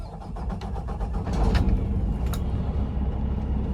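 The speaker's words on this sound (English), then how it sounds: "So I'm going to start up the truck and show y'all what it looks like whenever it's running" A 2023 Viper Red Peterbilt 389 truck engine starts and settles into a steady, loud diesel rumble close by, with a brief rise in intensity early on and no talking.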